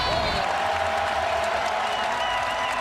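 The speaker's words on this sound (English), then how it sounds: "But listen to the crowd" Roaring home crowd at Florida's O-Dome during an Alabama at Florida SEC men's basketball game, a dense continuous wall of cheering and applause, loud and sustained for the whole stretch.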